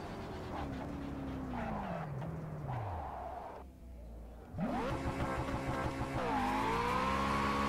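A car in a racing video game skids under the handbrake, a drawn-out tyre squeal sweeping down in pitch over the engine drone, followed by renewed revving and acceleration, with no talk.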